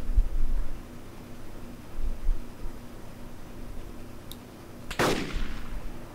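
One sharp gunshot in the video game DayZ cracks out near the end, loud and brief with a short decaying tail, over low background hum and a few faint thumps.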